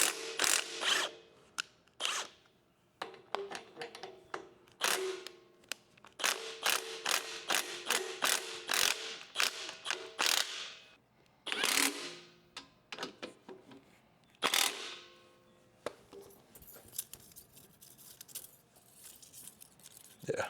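A hand ratchet loosening a bolt on a DPA cutting unit, repeated runs of sharp close clicks in uneven bursts with brief pauses between strokes, crisp and distinct against a quiet background.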